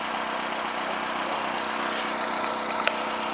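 A 1995 Toyota Corolla DX with a four-cylinder engine idling, a steady close mechanical hum and buzz with no change in pitch, a single brief click near the end, no talking.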